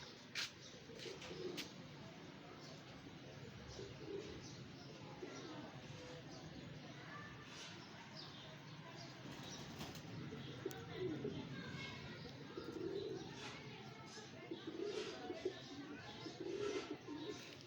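Pigeons kept by a fancier, one with peacock-like markings, give low, soft coos now and then over a steady murmur of background noise, with voices faintly audible.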